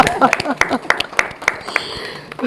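An audience at an event on women's leadership claps in a sparse, steady rhythm, a handful of sharp claps spaced evenly apart with voices talking underneath.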